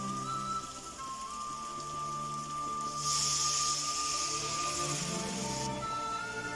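Vinegar hits a hot bitter gourd pickle mixture in the pan, giving a steady crackling sizzle that swells into a brighter, louder hiss midway before settling back, with a faint background tone and no speech.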